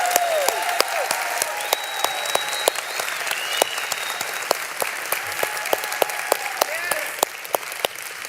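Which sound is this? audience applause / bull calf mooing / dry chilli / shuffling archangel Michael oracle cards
audience applause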